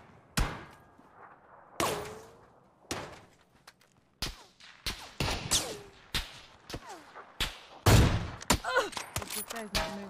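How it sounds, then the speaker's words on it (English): Gunfire in the video game PUBG on the Miramar desert map: sharp, separate shots spaced irregularly, some single and some in quick pairs, near and loud against a quiet background, with faint game sounds between them. "Where is he shooting from?"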